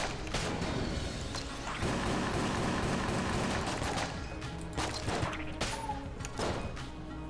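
Bullets fired in the dungeon shooter Enter the Gungeon: rapid, dense strings of small gunshots and impact pops, with chaotic clattering bursts running steadily under game music.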